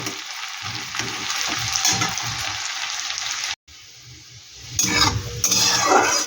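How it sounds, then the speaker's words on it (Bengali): Sliced onion frying in hot oil in a pan hisses with a steady, close sizzle, broken by stirring scrapes and a brief cut before louder spattering at the end. "এই পেঁয়াজটা এবার একটু আমি লাল লাল করে ভেজে নেব"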